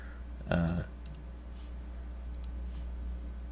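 A computer mouse clicks while someone works in terrain-generation software on a PC: one sharp near click early on, a short vocal sound at the same moment, then a few faint ticks over a steady low hum.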